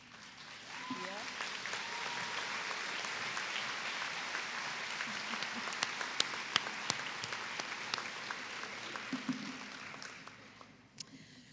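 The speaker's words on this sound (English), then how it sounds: "join in a round of applause to recognize these most valued partners of PHSC's nursing department" A nursing pinning ceremony audience applauds in a sustained round of clapping that fills the hall for about ten seconds, with scattered voices mixed in before it tapers off.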